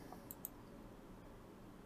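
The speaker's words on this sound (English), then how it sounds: "So if we click on this drop down" A couple of sharp, faint computer mouse clicks sound in quick succession as a dropdown menu is opened in IntelliJ IDEA, followed by quiet room tone.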